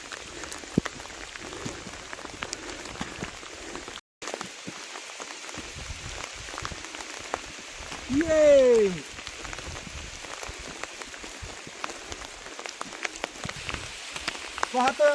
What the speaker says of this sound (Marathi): अतिशय मोठ्या प्रमाणात गारा पडत आहेत.